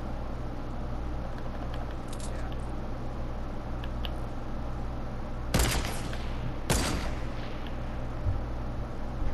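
Gunfire in an online multiplayer video game, with two sharp bursts of shots standing out over a steady low hum of background game noise, plus a few fainter distant pops.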